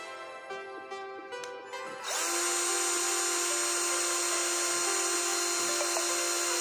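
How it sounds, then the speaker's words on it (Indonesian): Bitec INA MMB 1012 L cordless battery drill in drilling mode at speed setting 1: a few short whirring bursts, then the motor spins up and holds a steady, close, high-pitched whine. "Berikutnya kita uji RPM pada mode drilling ya, percepatan nomor 1."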